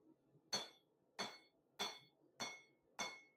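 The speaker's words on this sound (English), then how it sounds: "when you're actually hammering on a piece and you're wanting to spread out that spot" Five evenly spaced metallic hammer blows ring out on a piece of steel being forged into a saber, each a sharp clanging strike with a brief ringing tail, close and alone against a quiet background.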